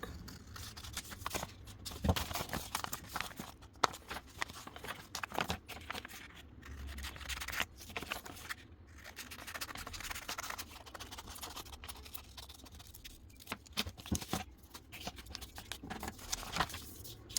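Scissors snipping and scraping through fabric while cutting out a cravat pattern, quiet irregular cuts and rustles at close range, with no speech.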